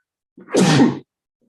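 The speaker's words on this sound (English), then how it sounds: "Had to sneeze." A single loud, close sneeze in otherwise near silence.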